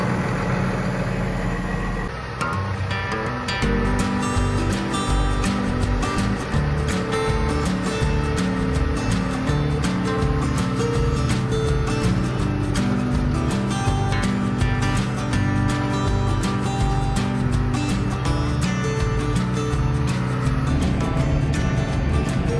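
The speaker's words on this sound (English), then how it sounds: "We're gonna start this tractor up" A large tractor engine idles steadily and loudly throughout on a watermelon farm, a low rumbling drone with no voices over it.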